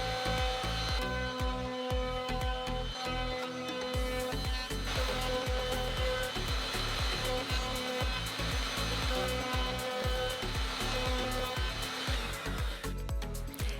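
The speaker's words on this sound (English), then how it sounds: "brought it over to the table router and rounded over all the edges" A table router rounds over the edges of wooden circles with a continuous, loud, high-pitched whine, and its pitch rises and falls as each piece is fed through.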